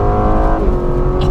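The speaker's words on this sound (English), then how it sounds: "This is the standard exhaust system." A 2018 Aston Martin Vantage with its standard exhaust drones steadily at a low, throaty pitch, loud and close, holding a constant note with a slight rise near the end.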